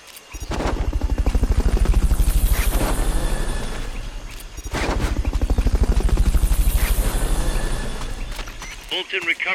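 A helicopter in Metal Gear Solid: Peace Walker thumps with rapid rotor chop, loud and close, swelling and easing over several seconds with faint game sounds around it.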